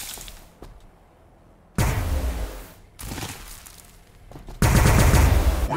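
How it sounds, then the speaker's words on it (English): Gunfire rattles in the strategy game Warhammer 40000 Battlesector, coming in three separate loud bursts of rapid automatic fire with booming impacts and short quieter gaps between them. "We are taking fire."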